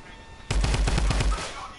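A quick burst of SMG fire in the video game Fortnite, roughly eight rapid evenly spaced shots lasting under a second, loud and close.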